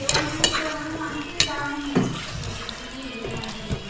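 A spoon stirs clams and potatoes in a spicy masala inside a cooking pot, with close, repeated scraping clacks against the metal over a soft wet sizzle.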